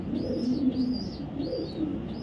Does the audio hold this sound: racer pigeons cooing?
yes